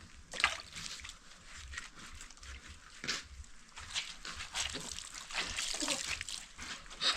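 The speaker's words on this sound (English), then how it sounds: "So I want to wash this shirt and then I will rinse her." A shirt washed by hand in a basin of water in Kenya, with repeated close sloshing, splashing and dribbling as the cloth is worked and lifted, steady throughout.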